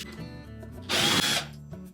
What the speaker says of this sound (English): we're going to remove two screws that secure that main top to the body of the range.